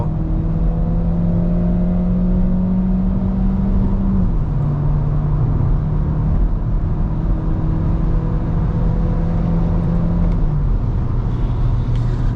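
A 2018 Volkswagen Beetle 1.2 TSI Sport with a dry dual-clutch gearbox accelerates hard after kick-down, its engine note climbing steadily, dropping briefly at a gear change and rising again under loud, constant road and cabin noise.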